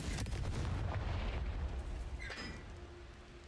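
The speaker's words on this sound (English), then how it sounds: "Confringo" A Confringo explosive spell cast in Hogwarts Legacy, a deep booming blast that rumbles and slowly fades, with a faint magical shimmer near the end.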